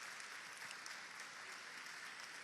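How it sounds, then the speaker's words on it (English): An audience applauds at a New York community college event promoting a free program. Sustained, even clapping continues for the whole stretch at a low recorded level, with no voices on top. "Let's give another round of applause to our president."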